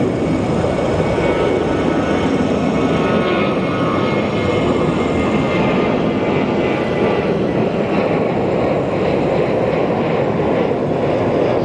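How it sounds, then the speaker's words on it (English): Southwest airliner taking off on an El Paso bound flight from Sky Harbor, a loud continuous jet engine roar that holds steady and broad, heard from a distance without talk. "Southwest El Paso bound flight taking off."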